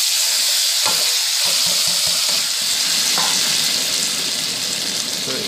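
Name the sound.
flat beans frying and stirred with cumin and chili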